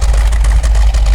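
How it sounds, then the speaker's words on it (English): A 1970 Dodge Challenger with a 440 Six Pack V8 idles loudly through its exhaust, a deep steady rumble with rhythmic pulsing, close up and alone. "that exhaust is starting to sound much better"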